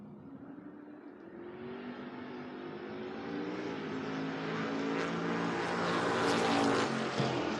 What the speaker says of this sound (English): Kevin Mendenhall up now, 620 in the Chevy 2, taking on Bobby Pip in the Mustang, 741.